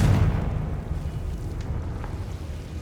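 Confringo fire spell blast in Hogwarts Legacy, a deep booming burst that rolls off into a rumbling fiery tail, heard alone.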